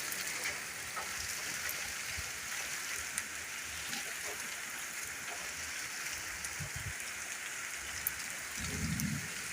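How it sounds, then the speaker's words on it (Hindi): Steady evening rain pours down continuously on garden plants, a dense hiss with occasional louder drops and a soft low rumble near the end. "अच्छी खूबसूरत बारिश।"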